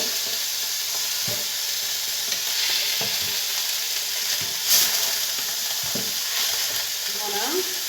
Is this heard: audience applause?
no